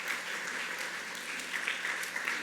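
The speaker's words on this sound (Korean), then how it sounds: "박수로서 환영하도록 하겠습니다" A Korean Baptist church congregation in Ulsan claps to welcome returning members, an even, steady patter of applause at moderate distance.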